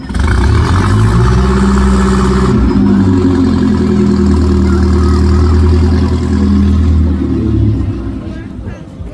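An old vintage car engine with an electric starter runs close by, a loud low throbbing idle with a rev change partway through, steady then fading at the end.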